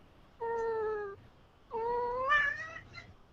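A cat resisting being picked up gives two drawn-out, whining meows, the second longer and rising into a strained complaint, close and fairly quiet with no talk.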